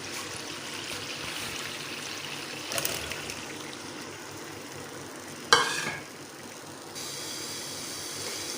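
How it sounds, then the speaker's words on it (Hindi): Onions frying in oil in a kadai, a steady soft sizzle and hiss throughout, with a couple of brief louder clatters of stirring, heard close and fairly quiet with no talking. "प्याज को हम जब तक हमारा प्याज पिंक नहीं हो जाता तब तक हम प्याज को फ्राई करते हैं ऑयल में।"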